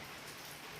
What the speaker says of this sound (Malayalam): ആ എന്താ മഴയാണല്ലോ